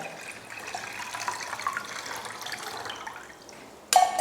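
Tender coconut water is strained, a soft, close trickle and splash of pouring liquid that runs quietly, then ends with a brief louder clatter.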